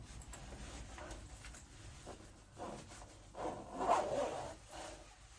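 A tight clothing zipper being pulled up, quiet scratchy rasping strokes close by that strain and build toward a firmer pull near the end.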